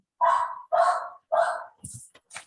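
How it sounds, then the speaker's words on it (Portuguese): Three sharp dog barks ring out in even succession, followed by a couple of shorter, fainter yips, each loud and close with silence between. "Quem tá com o cachorro latindo aí?"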